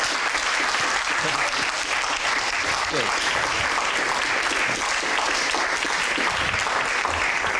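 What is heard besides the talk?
audience applause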